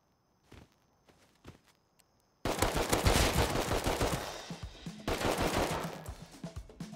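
Video game gunfire in a raid on a base: a few faint, isolated pops, then a sudden loud sustained barrage of rapid shots that keeps going with brief dips until the end.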